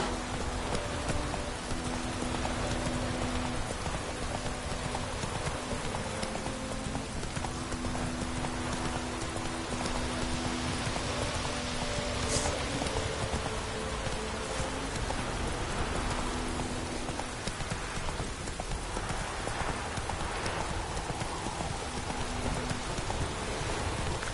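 A horse gallops through rain in The Witcher 3, its hooves clip-clopping in a steady rhythm under a constant hiss of rainfall, with faint tonal music woven through.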